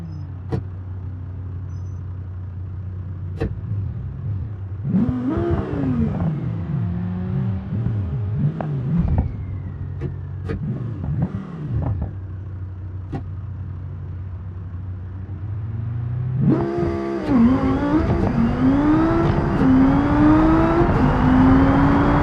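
A car in a BeamNG drag race idles with a low rumble, blips its engine a few times, then launches into loud, rising acceleration with climbing revs and gear changes.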